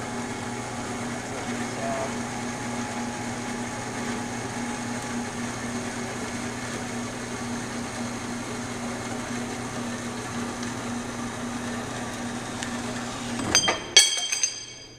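An ME100 Gyroframe metal-cutting saw runs with a steady mechanical hum and whine for a long stretch, ending in a brief burst of clinks and metallic clatter as the cut finishes.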